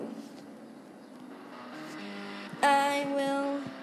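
A car driving in the Roblox game Driving Empire: a low steady engine drone that rises into a loud, bright revving tone near the end.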